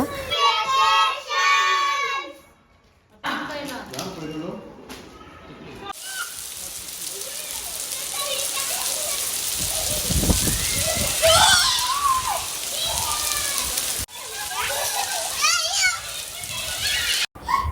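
Children play and shout outdoors during an evening rainfall, their voices close and lively over a steady patter of rain, with a few brief quieter gaps between bursts.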